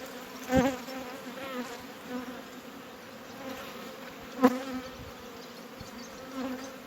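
Honey bees buzz steadily around hives just split into several colonies with frames, a dense close hum with a few louder passes of individual bees flying near.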